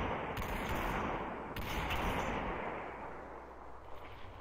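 Automatic AK rifle fire in the Population: One VR shooter: a steady, dense rattle of shots runs through the whole stretch, loud and close, with two brief sharper bursts near the start and middle.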